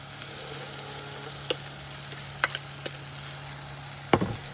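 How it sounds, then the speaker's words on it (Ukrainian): Cabbage sizzles in a heated frying pan, a soft steady crackle with a few sharp pops and scraping stirs near the end, quiet and without talk. "На розігріту пательню викладаю половину капусти та розрівнюю."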